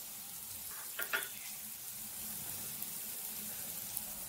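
Asafoetida sizzles in hot oil during the tempering for tomato rasam. A faint, even hiss runs throughout, with a short louder crackle early on and no speech.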